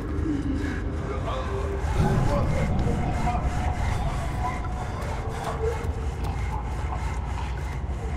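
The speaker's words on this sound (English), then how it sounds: "I hear sawing." Steady rhythmic sawing rasps on in the horror video game Amnesia: The Dark Descent, continuous and moderately loud, with a player talking over it.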